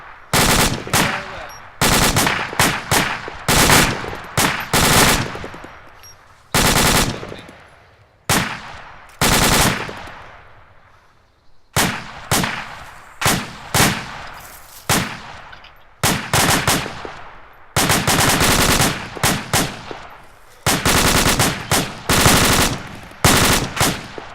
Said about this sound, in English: Fire, fire, fire.